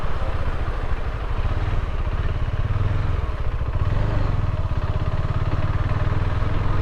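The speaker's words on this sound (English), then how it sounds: "Advantage of having a motorcycle." A motorcycle engine runs steadily and loud on a ride in India near a massive railway bridge, with a continuous low rumble and some clatter and no pause throughout.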